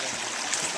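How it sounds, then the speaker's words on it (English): Hikers cross a stream on rocks near the base of a waterfall in Olympiada, Greece; steady broadband rush of flowing water fills the short moment, soft and even with no voices. "We cross the stream."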